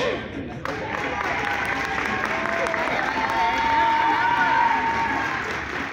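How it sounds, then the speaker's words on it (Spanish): An audience at a dance contest applauds and cheers in a steady, dense wash of clapping. A voice talks over the crowd noise. "Aplauso acá para Jorge"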